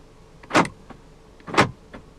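Power windows on a 2015 Fiat 500X 1.4 MultiAir II Cross Plus give two short motor whirs about a second apart, close by in a quiet cabin, each followed by a faint thunk.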